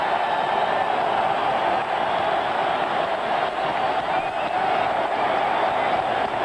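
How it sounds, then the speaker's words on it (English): A packed Chicago Stadium crowd roars steadily as the Bulls take the court against the Portland Trail Blazers in Game 6 of the 1992 NBA Finals, a dense, unbroken wash of cheering from start to finish. "Crowd here at Chicago Stadium roaring its appreciation as the Bulls take the court."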